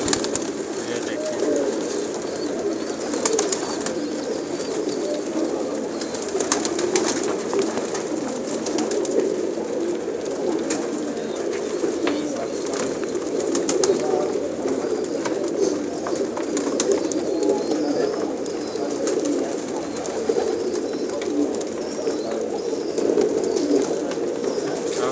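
Many pigeons cooing together inside a pigeon shop, a soft continuous murmur of overlapping coos with occasional rustles and faint voices in the background.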